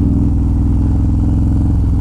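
A Harley-Davidson Road Glide with a 130-cubic-inch engine drones steadily at low revs with a throbbing, even rumble, close and loud, as it slows under engine braking.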